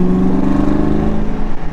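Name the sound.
1994 Ford Mustang GT engine while driving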